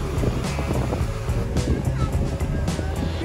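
Ocean waves wash onto a beach in a continuous, fairly loud roar of surf mixed with wind buffeting the microphone, steady throughout with no clear individual breakers standing out.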